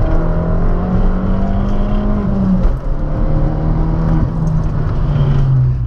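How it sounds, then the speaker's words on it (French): A 250 motorcycle's exhaust hums loudly and steadily close by as the engine accelerates, its pitch shifting slightly over a few seconds with no speech. "par contre le son à l'échappement"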